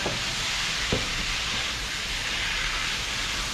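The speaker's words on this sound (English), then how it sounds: "Now we're going to add in our konjac noodles." Konjac shirataki noodles drop into a hot pan and sizzle with a steady, dense hiss that holds evenly throughout, close and fairly loud, with no voices.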